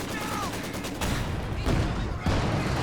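Machine gun fire in Company of Heroes 2, a loud, continuous battlefield rattle of rapid bursts layered with heavier explosive thumps, sustained throughout with a faint voice in the mix.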